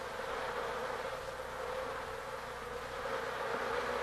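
Honey bees buzz in a steady, continuous drone that holds evenly throughout, with no voices present.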